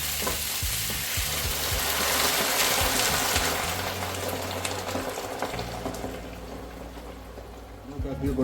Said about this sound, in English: And now we're gonna add some water to this.